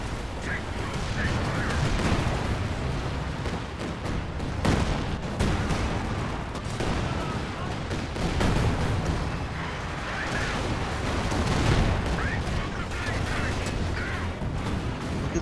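In the Company of Heroes 2 video game, Katyusha rocket artillery fires, producing rolling booms and rumbling volleys under a steady battle din. Player voices talk over it at intervals.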